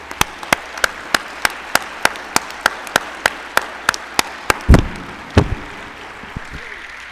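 A slow, even run of single loud claps comes close by in a steady beat, then a couple of heavier thumps, with a quiet room tone after. The setting is an awards luncheon honouring a lifetime-achievement recipient in floodplain management.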